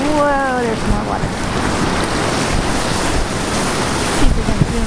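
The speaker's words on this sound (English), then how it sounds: "the edge of the waves that are headed towards Port Huron are dragging in our shallows over here" Waves driven by Hurricane Sandy roll in at a lake shore, with steady loud surf and heavy wind buffeting the microphone. Faint voices rise and fall under the roar.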